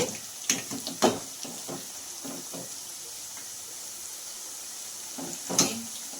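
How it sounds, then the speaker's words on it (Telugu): Moringa leaf and sorghum flour pakodi fry in oil over medium heat, giving a steady soft sizzle with a few sharp stirring clinks near the start and end. "ఎక్కువ కలుపుకోకుండా మీడియంలో పెట్టి వేయించుకోండి"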